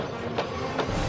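Locomotive 080 gathering speed as it pulls out of a harbor, a steady rumbling rail roll with two rhythmic clacks of wheels over joints, moderately loud and close, with no voices.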